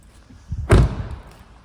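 The tailgate of an Audi A3 S Line hatchback is opened, producing a soft mechanical click, then a single close dull thump as the lid releases and lifts.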